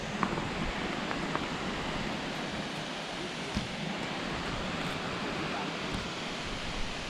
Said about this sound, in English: we've made it to the most beautiful waterfall that I've ever seen in my life